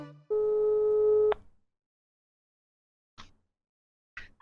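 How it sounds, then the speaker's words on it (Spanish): Placing a phone call produces one steady electronic tone of about a second, then a quiet gap with two faint brief clicks or blips afterward. "Vamos a llamarla"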